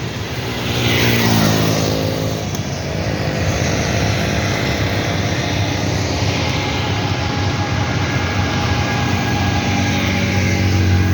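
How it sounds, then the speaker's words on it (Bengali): Vehicles speed along a road in the rain, with one loud pass sweeping by early on and a constant wash of tyre hiss and engine noise continuing throughout without any voices. "বৃষ্টির মধ্যে গাড়িগুলা এমনভাবে যাইতেছে, খুব দ্রুত গতিতে"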